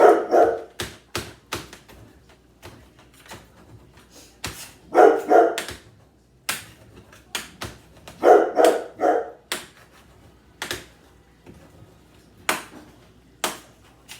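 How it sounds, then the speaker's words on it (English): A dog barks repeatedly in short bursts, some grouped in quick clusters, with sharp taps and clicks scattered between them in a quiet room. "Coop, what are you barking at, buddy?"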